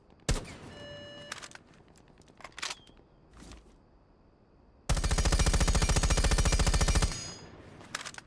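Rifle fire with a compensator in Rainbow Six Siege: a few sharp single shots ring out first, then a loud, rapid automatic burst lasts about two seconds.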